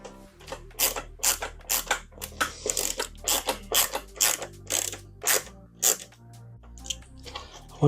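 A screw being turned into a part of a Fanhome Fast and Furious Toyota Supra MK4 scale model, a close, loud series of regular ratcheting clicks in short rhythmic bursts, with no voices.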